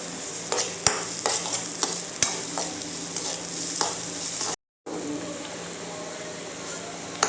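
Steady sizzling of capsicum and green chillies frying in a hot pan over high flame, with occasional scraping clicks of stirring and a brief moment of silence partway through.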